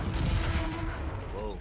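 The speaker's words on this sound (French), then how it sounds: "explosion" A loud booming explosion in the Halo video game, a heavy rumbling blast with crackling debris that decays over under two seconds, with a brief metallic ring near the end.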